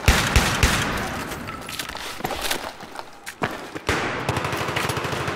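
Automatic AK rifle fire in a multiplayer shooter game on the Noshahr Canals map, bursts of close, loud shots with footsteps between them.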